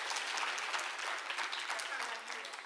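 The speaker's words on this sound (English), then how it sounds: "Another warm round of applause for Sawatya Mungo" A crowd at a poetry event gives warm, sustained applause for a performer, dense and even clapping that fades slightly toward the end, with a voice over it.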